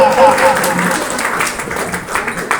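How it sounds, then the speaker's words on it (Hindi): Loud applause from an audience at an event, dense clapping sustained throughout with a voice briefly audible over it. "मैं एक बार चाहता हूँ जोरदार तालियां इन लोगों के लिए, जोरदार जोरदार"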